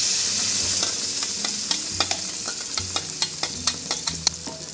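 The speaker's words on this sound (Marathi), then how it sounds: "आपण बारीक गॅसवरच हलवून घेणार आहोत असं हलक्या हाताने।" Mango pulp being stirred in a pan over a low flame for mango barfi, a steady soft sizzle with repeated light scraping taps from the spoon that grow more distinct toward the end, close and with no talk.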